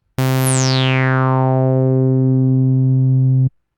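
A steady, buzzy SynthMaster 3 synthesizer tone with its filter at draft engine quality holds for about three seconds, with a bright whistling sweep falling from high to low at the start, then cutting off abruptly.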